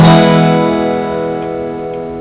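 A Guild GAD 25 acoustic guitar chord rings out alone after one strum, its harmonics sustaining long and decaying only slowly across the whole stretch.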